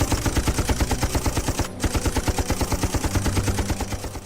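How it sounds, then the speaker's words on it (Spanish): Rapid, sustained Maxim machine gun fire in a colonial-era battle against advancing Matabele, loud and continuous with steady bursts of shots and a brief break partway through, no voices. "Las ametralladoras Maxim de Rhodes iban segando una y otra vez a los Matabele que avanzaban."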